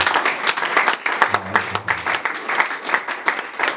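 A church congregation claps together through a Sunday worship service, dense and loud, the applause swelling and pulsing in rough rhythm, with voices mixed faintly beneath it.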